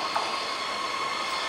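A train rolls steadily into a siding at St. Moritz station, giving a continuous rumble with faint wheel hiss and squeal, moderately close, with no voices.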